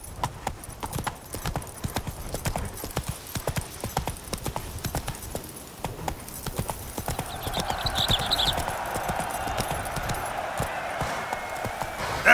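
Roach the horse galloping in The Witcher 3: Wild Hunt, a rapid, rhythmic clip-clop of hooves that runs unbroken for the whole stretch at a steady, moderate level, with no voices over it.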